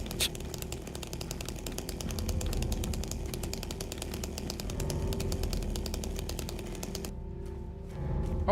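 A chainsaw in the Silent Hill 2 Remake runs continuously at a loud, buzzing, rattling idle-to-rev drone, then stops abruptly near the end, leaving a brief quieter tail.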